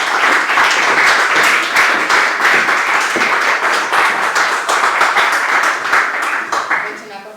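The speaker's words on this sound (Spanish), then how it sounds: "Yo creo que un aplauso, ¿verdad?" Sustained audience applause after a lecture on ungovernable culture, dense steady clapping from a full room lasting several seconds before tapering slightly at the end.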